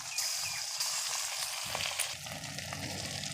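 Ginger-cumin paste dropped into hot oil with bay leaves, peanuts and chickpeas for Bengali kochu shak, a close crackling sizzle that swells into a fuller fry midway, with light stirring clinks and no speech.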